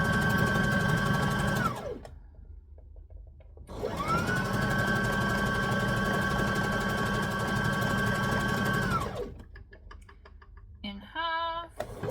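A sewing machine stitches a pink dress in two long steady runs, each starting and stopping cleanly, with quieter handling sounds in the pauses and a brief clatter near the end; no talking.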